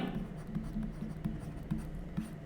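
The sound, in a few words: writing on a board during a lesson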